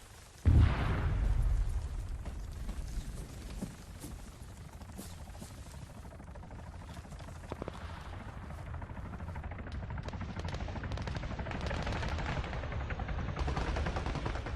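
Arma 3 King of the Hill battle with a loud opening bang followed by continuous dense gunfire and explosions over a steady rumbling, helicopter-like drone.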